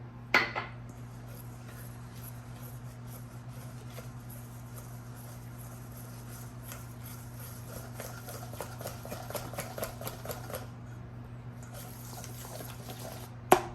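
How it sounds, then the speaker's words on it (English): Powdered sugar being mixed by hand into cinnamon roll frosting in a bowl: steady rapid tapping and scraping of a utensil against the bowl, close and fairly quiet, over a low constant hum. "gradually add our powdered sugar here and mix it in"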